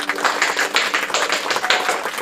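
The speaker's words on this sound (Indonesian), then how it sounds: "Semuanya tepuk tangan." A group at an online children's Sunday school service claps hands in a steady, brisk rhythm of close, sharp claps for about two seconds.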